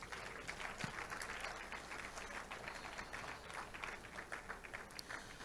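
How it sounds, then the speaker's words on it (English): An audience gives a performer a further round of applause, a soft, fairly distant patter of many hands that continues evenly throughout. "let's give Ashezi another round of applause"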